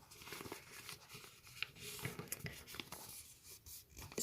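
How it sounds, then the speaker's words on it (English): Square origami paper being folded and creased by hand, soft continuous papery rubbing and sliding with a few light crinkles, close and fairly quiet. "So we're going to take this and fold it this way."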